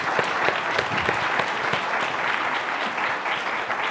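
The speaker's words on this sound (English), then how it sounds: "How about a round of applause" A room full of attendees at a fall symposium and luncheon applauds, with dense, continuous clapping at an even level for the whole stretch and no talking over it.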